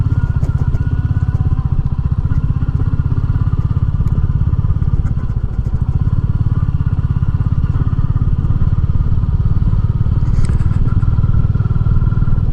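A Royal Enfield Meteor 350 single-cylinder motorcycle rumbles steadily along a small country gravel road, its engine loud and close throughout with light clattering of stones and suspension over bumps, no speech.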